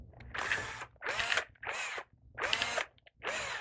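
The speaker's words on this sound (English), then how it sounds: "And then you'll just take your drill." A power drill drives 1/4 inch truss head screws into a belt attachment in five close, loud bursts of whirring, each about half a second long with short gaps between, with no talking.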